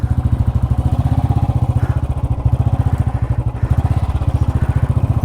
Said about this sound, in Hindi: अब मेरी बाइक ठीक भागेगी।